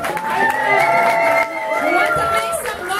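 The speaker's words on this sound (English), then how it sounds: "Oh, some applause for ladies!" A crowd at a medal ceremony cheers and shouts loudly, with excited voices and some clapping forming a dense, continuous roar throughout.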